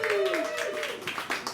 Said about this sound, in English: Clap it up if you have pets, y'all.